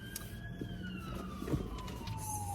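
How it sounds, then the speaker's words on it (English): An ambulance siren passes at a distance, its wailing tone sliding steadily downward as the vehicle moves away, with low traffic rumble underneath and no voices. "The ambulance is just passing by."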